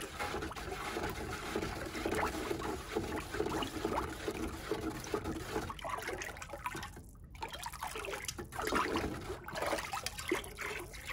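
A container of liquid pottery glaze being stirred, giving steady wet swishing and trickling sounds with occasional louder sloshes, close by and without talk.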